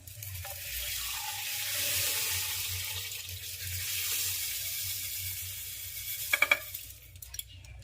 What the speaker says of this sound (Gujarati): તો આ રીતે પાણી નાખવાનું અંદર કુકરમાં